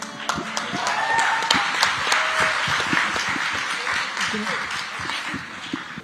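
Audience applause fills a hall after a live sung performance at an Indian women's cricket event, steady and dense throughout, with scattered sharp claps near the listener and occasional voices mixed in.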